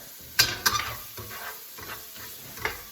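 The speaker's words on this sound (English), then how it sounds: "I didn't want the carrots to be dry sauteing, because part of sauteing, it needs something." Carrots sautéing in a pot for ham and white bean soup, a soft sizzle broken by rhythmic spoon scrapes and a few sharp utensil clinks against the pot.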